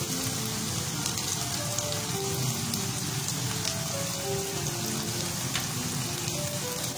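Steady dense sizzle of tomatoes going into mince curry (aloo keema) frying in a pan, a continuous crackling hiss throughout with no talking.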